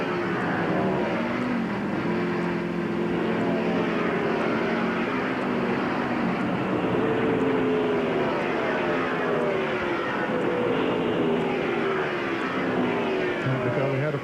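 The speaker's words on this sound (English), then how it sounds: "You hear the engine running." NASCAR stock car engine running during an unscheduled pit stop at the 2000 NAPA 500, a steady droning roar with wavering pitch beneath commentator talk and crowd noise.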